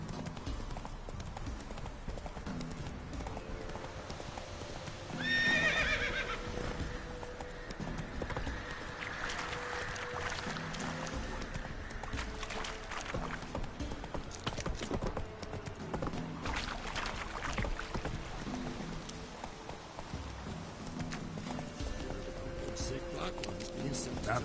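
Geralt's horse Roach gallops in The Witcher 3 on PS4, steady rhythmic hoofbeats throughout with a brief whinny early on, under game music and speech.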